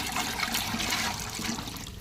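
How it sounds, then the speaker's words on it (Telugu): Rice-soaked water, kept for four days, pours steadily into a bucket in a continuous splashing rush for about two seconds, with no voices over it. "ఇదిగోండి బకెట్లో అయితే వేస్తున్నాను నీళ్ళైతే"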